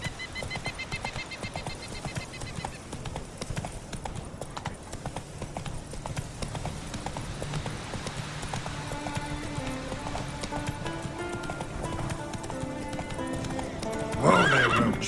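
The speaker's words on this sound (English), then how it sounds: "Whoa there, Roach" Roach, the horse in The Witcher 3, gallops with rapid rhythmic hoofbeats over game music, ending in a loud neigh as it is reined in.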